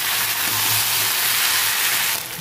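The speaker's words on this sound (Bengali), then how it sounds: "ভেজে নেওয়া টমেটো কুচটা দিয়ে দেবো, ভালো করে ভেজে নেব" Chopped tomato fries in a pan for a Bengali rui fish curry, giving off a loud, steady broadband hiss that eases slightly at the very end.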